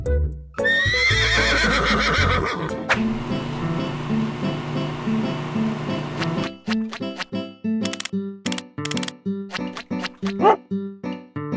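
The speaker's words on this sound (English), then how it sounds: "Stop, Chestnut, you bad horse." A horse whinnies loudly near the start in Roblox Brookhaven, followed by clip-clopping hooves, then a string of sharp dog barks and yips in a game-like soundscape.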